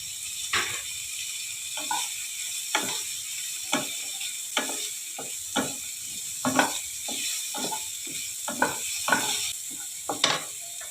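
Chopped garlic and chili stirred in hot oil in a pan, with a steady crackling sizzle broken by repeated sharp scraping strokes of the spatula at an irregular rhythm, close and moderately loud.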